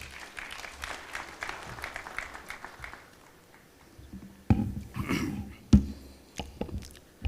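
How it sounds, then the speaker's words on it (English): Audience clapping at the 32nd ARSO General Assembly in Kenya, a steady patter for about three seconds that then thins out, followed by a few scattered thumps and knocks. "A round of applause,"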